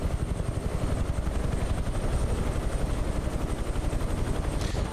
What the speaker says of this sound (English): They're lovely, all these helicopters.